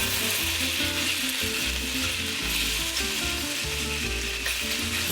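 Kung Pao chicken sizzles loudly in a hot pan, with a constant bright frying hiss and rhythmic scraping as it is stirred.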